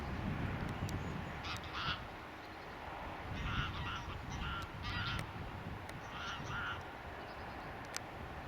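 Geese honking repeatedly above a slow, deep river weir, calls rising in scattered bursts over steady rushing water noise as the flock takes off; the birds sound moderately distant.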